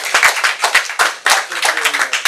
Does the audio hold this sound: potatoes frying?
no